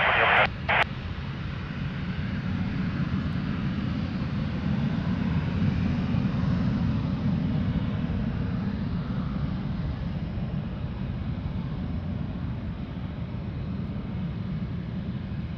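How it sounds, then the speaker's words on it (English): Portuguese Air Force Dassault Falcon 50 jet at Lisbon Airport, a steady loud engine roar held throughout, with a brief radio click at the start. "So that's the Falcon 50 Portuguese Air Force."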